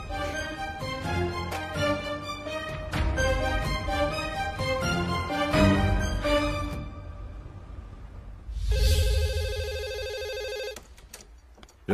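A telephone rings in a dubbed Portuguese-language soap opera scene: bright repeated electronic ring tones, starting after a stretch of background music and continuing for a couple of seconds, with no talking over them.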